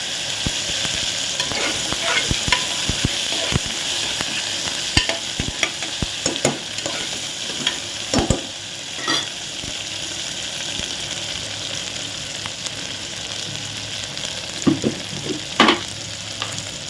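Onions and tomato fry in a pan for a Tamil vada curry, with a steady loud sizzle and a spoon scraping and stirring at irregular intervals.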